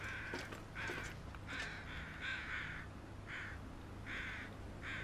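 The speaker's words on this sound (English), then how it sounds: "Okay, now I'm hearing birds." Crows caw while flying overhead in the survival video game The Long Dark, a string of about eight raspy calls at moderate distance over a quiet ambient bed, with no speech.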